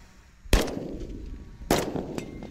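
Two sharp, loud gunshot cracks about a second apart, each with a rumbling tail, followed by a fainter distant pop; no speech.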